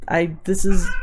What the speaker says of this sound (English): That was my cat. I don't know if you heard him. He meowed.